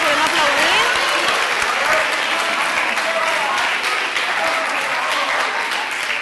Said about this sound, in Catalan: Fora aplaudiment, podem aplaudir.